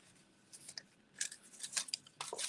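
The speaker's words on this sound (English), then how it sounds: "I'm going to use my ribbon scissors and just trim that off" Ribbon scissors trim paper in a few quick snips, close and fairly quiet, with soft crisp cuts in irregular bursts and no talking.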